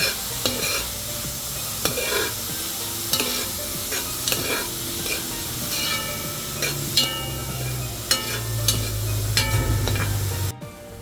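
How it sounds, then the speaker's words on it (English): Carrots and sweet peppers fry loudly in a pan, with a steady sizzle under repeated scraping stirs and clinks of the utensil, the hiss swelling toward the end. "you're gonna add the carrots and the lovely sweet peppers out. And just continue stirring it around."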